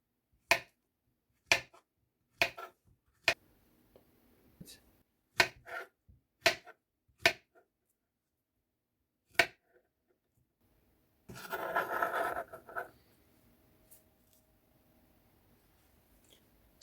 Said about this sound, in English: I'm going to chop it.